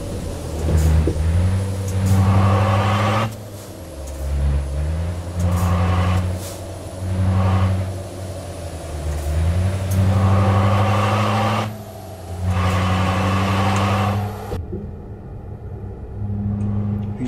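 A V8 Scania truck engine with a sound mod in Euro Truck Simulator 2 rumbles loudly and steadily, its pitch rising and falling through repeated revs and gear changes before the sound cuts off sharply near the end.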